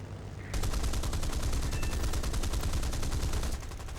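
Rapid, sustained cannon and machine-gun fire from a Spitfire F. Mk IX in War Thunder, diving on a Messerschmitt 110C, a dense, loud, continuous rattling burst that begins abruptly and runs for about three seconds before easing.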